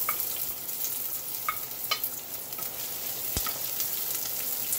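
Onions sizzle steadily in a hot pan while a utensil scrapes and taps against it now and then, with no talking.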